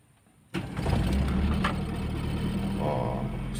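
A Toyota Starlet engine with the choke pulled cranks and catches abruptly, then settles into a steady, fairly loud idle with a slight rise in pitch near the end.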